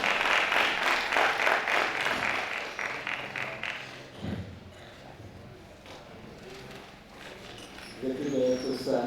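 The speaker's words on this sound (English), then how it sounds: "A round of applause for him" Applause at a workshop for a horticultural research institute, a burst of clapping that is fairly loud at first, then fades to scattered claps, with a voice speaking over it near the end.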